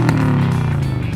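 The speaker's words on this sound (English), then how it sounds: "Exhaust gives it that nice boxer rumble we all know and love." A 2-litre EJ20 quad-cam turbo boxer engine in a Subaru Liberty RS idles with a steady, loud low exhaust rumble, close by and unbroken, with no talk over it.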